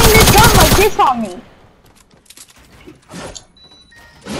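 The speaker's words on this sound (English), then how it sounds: "he keeps spamming this gun like this on me" Rapid gunfire from a single gun fired over and over in Fortnite, a loud dense burst at the start followed by scattered, fainter shots with gaps between them.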